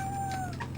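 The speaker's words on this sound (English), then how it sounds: "So those meows is actually the boss himself." Recorded cat meows used as a boss sound in an Amiga video game, a brief cluster of short electronic-sounding meows over a low steady game hum.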